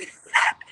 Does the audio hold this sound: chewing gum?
no